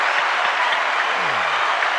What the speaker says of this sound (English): Let me give him a round of applause for that.